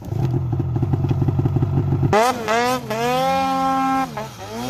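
An Alpha One motorcycle with a broken throttle runs loud and close, first a rapid, rough idle clatter, then rising and falling engine revs with a strongly tonal whine as it climbs a hill.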